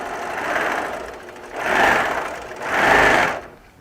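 An Accomplish sewing machine stitching during quilting, its motor whirring in three rising and falling bursts at close range with no talk.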